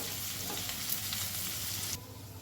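Shrimp and onions frying in a pan, a dense continuous sizzle close up with crackling spatter for about two seconds before it drops lower, no talking.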